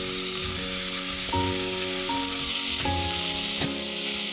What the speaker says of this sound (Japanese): 鍋にオリーブオイルを少しだけ入れて玉ねぎを炒めます。